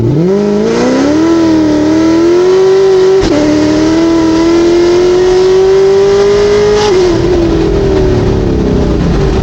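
A loud supercharged Z06 sports car engine running E85 revs up steadily into boost, its pitch climbing as it accelerates under load and then easing off near the end.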